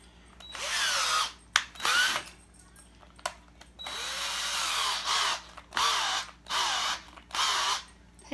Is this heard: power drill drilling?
yes